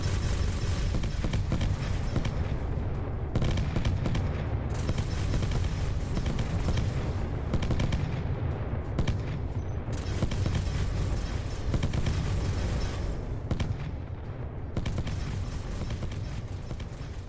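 Ship turrets firing continuously in the Spacebourne 2 space combat game, a dense stream of repeated shots and booms that runs steadily at moderate loudness throughout with no talk.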